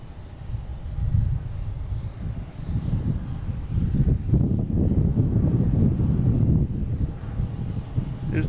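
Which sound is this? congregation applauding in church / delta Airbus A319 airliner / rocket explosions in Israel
delta Airbus A319 airliner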